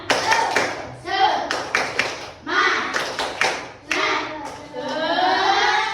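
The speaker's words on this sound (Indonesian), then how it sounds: "kita tepuk semangat dulu ya" Classroom of children doing the rhythmic 'tepuk semangat' clap, bursts of sharp unison claps alternating with chanted voices in a repeating pattern, close and loud.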